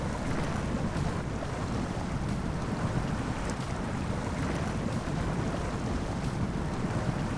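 Heavy off-road truck in SnowRunner's Yukon region pushing through river water, a steady loud rumble of engine and churning, sloshing water with wind-like noise, continuous and unbroken throughout with no talking.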